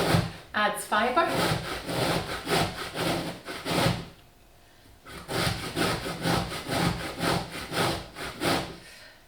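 A whole pear, skin on, scraped against a box grater in a steady run of rasping strokes, a short pause midway, then more rhythmic grating close up.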